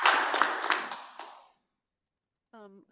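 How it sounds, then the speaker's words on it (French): An audience gives brief applause to welcome a speaker at an event, with close clapping that fades out within a second and a half, followed by silence and then a short spoken voice. "S'il vous plaît, recevons-la avec un grand tonnerre d'applaudissements."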